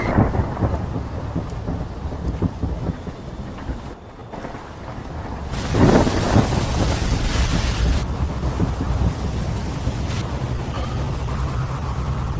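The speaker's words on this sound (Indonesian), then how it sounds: "cuaca langsung berubah menjadi mendung, bahkan hujan pun turun dengan lebatnya." Heavy rain pours steadily while thunder rumbles low and loud, with a bigger roll of thunder about midway, gusty wind buffeting the microphone throughout.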